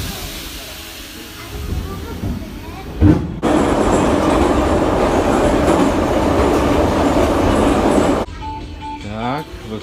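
A metro train in Tashkent, Uzbekistan: a sharp clack, then a loud steady roar and rumble of the moving carriage that lasts several seconds before dropping off, heard from inside the car.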